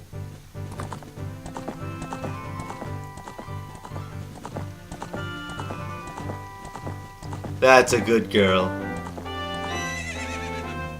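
A horse whinnies loudly in a brief burst amid rhythmic galloping hoofbeats and game music in The Legend of Zelda: Ocarina of Time, with someone speaking briefly.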